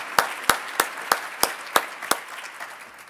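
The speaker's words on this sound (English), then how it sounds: "join me in a round of applause for their involvement and support of DMI and Downtown Madison" A small audience at a downtown Madison business event claps for sponsors: seven sharp, evenly spaced claps, fairly close and distinct, thinning out near the end.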